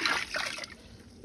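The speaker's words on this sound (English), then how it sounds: "So now I'm putting cold water." Cold water poured into a home distilling setup for ombike, a short soft splash and trickle lasting about a second, close and fairly quiet with no talk over it.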